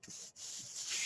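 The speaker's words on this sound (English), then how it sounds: "Burnish that baby down." Paper being burnished down onto a handmade card, a soft continuous rubbing and scraping that pauses briefly once and then resumes, close-up and faint with no talking.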